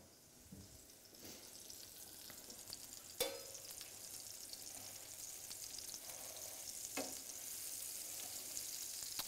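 Mozzarella-filled burgers bound with egg and breadcrumbs fry in a pan and get flipped. A soft, steady sizzle runs throughout, broken by a few brief scraping clicks from the turning, with no voices.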